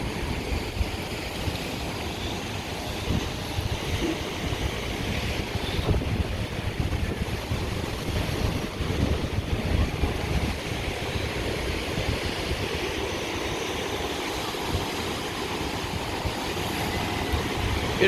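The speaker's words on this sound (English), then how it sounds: "this is Black Sand Beach" Surf washes steadily onto Black Sand Beach at Wai'anapanapa near Hana, Maui, on a sunny day, a broad continuous rumble with wind buffeting the microphone throughout.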